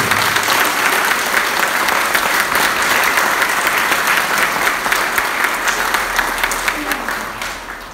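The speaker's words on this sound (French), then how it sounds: "un grand applaudissement pour Jésus qui nous a apporté" Loud, sustained applause from a church congregation at a Christmas celebration in Toulouse, steady clapping filling the room for several seconds before tapering off slightly at the end.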